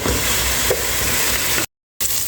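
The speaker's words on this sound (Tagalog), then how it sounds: "Ilagay natin yung ating chicken. Then, syempre, haluin muna natin siya." Chicken pieces sizzling and frying in a pan for a Maqluba dish, a steady loud broadband hiss that runs continuously, then cuts out abruptly for a moment before resuming.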